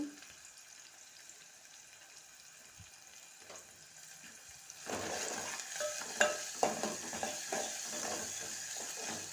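Ridge gourd curry ingredients with onions are stirred in a pan; a quiet stretch gives way midway to a louder sizzle with repeated spatula scrapes and knocks, close and without voices.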